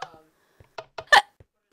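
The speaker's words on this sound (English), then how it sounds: "I got hiccups." A person hiccups several times in close succession, short sharp bursts up close with one louder, fuller hiccup near the end and a few softer ones around it, with no talk.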